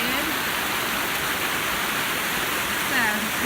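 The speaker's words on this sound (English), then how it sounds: "It's a potentially very dangerous creek crossing." A creek rushes loudly and steadily at a dangerous trail crossing on the Georgia Pinhoti Trail, the broadband water noise filling the whole moment up close.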